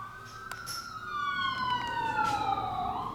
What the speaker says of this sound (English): There's more fire trucks and ambulances and police.